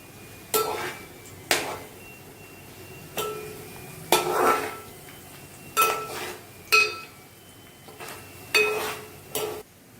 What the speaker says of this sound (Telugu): ఆనియన్స్ మనకి లైట్ బ్రౌన్ కలర్ వచ్చే వరకు కలిపేసుకోవాలి